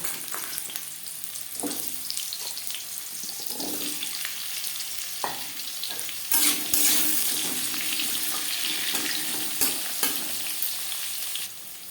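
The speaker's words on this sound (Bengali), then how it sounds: "দশ পনেরো সেকেন্ড জিরে তেজপাতা ভেজে নেওয়ার পর দিয়ে দেবো পেঁপে" Papaya added to hot oil with whole cumin and a bay leaf for a Bengali vegetarian curry, giving a continuous close sizzle broken by clattering stirs and a louder burst of frying partway through.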